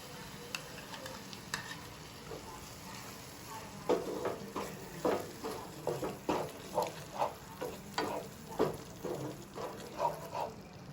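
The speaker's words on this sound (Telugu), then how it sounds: "ఇప్పుడు ఈ పెరుగు మగ్గేదాకా కొన్ని వేడి నీళ్ళని పోసుకొని పెరుగు టమాటాలని మంచి ఉడికిద్దాం" Yogurt and tomatoes for a mushroom masala curry cook in a hot pan, giving a steady sizzle with a run of rhythmic scraping stir strokes that grow regular and louder toward the end.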